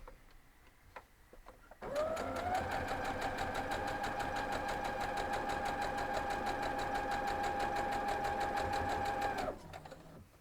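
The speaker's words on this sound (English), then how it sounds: "when I was sewing, my machine would shake" A sewing machine stitching fabric for a quilt block, a steady fast mechanical chatter with a whirring motor hum that runs for about seven and a half seconds before stopping, close and alone.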